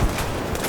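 Gunfire in a War Thunder tank battle around a T-55AM-1: a short, loud low-frequency blast at the start, then a rough rumbling tail.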